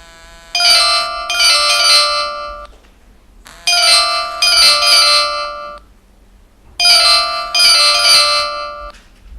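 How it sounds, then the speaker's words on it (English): A phone rings unanswered in repeated double-trill bursts, three cycles with short silent gaps between them, loud and close with no talking over it. "Damn, pick up the phone"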